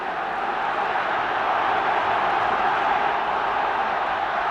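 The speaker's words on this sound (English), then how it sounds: "Oh, what a crowd," Steady, dense roar of a large stadium crowd cheering at the 1979 All-Ireland Hurling Final between Kilkenny and Galway, loud and continuous with no breaks throughout.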